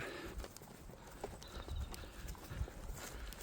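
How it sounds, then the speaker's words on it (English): A group of cattle crosses a farm road, their hooves producing scattered soft thuds and clops at an uneven walking pace, fairly close, with faint bird calls in the background. "we must bring a group of cattle across the road now again"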